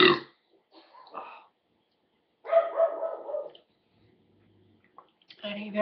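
A dog at a busy comic convention in New York gives a few scattered barks amid background noise, with a loud burst in the middle and more at the end.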